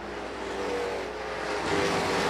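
Scrap street stock race cars roaring around a dirt oval track at night, a steady dense engine drone that swells slightly toward the end, loud and continuous with no voices over it.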